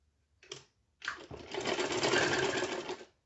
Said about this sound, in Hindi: डबल सिलाई होगी इस लेस में। लेस थोड़ी थिक है तो इसीलिए डबल सिलाई लाजमी करें।